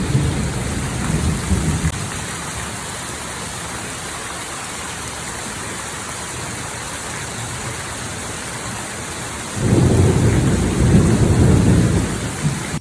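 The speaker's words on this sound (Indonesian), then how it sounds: "Pas mau mindahin, hujan gede banget, airnya semakin naik" Heavy rain pours steadily during a flood, a loud dense hiss filling the whole stretch, with deep rumbles of thunder swelling near the start and again toward the end.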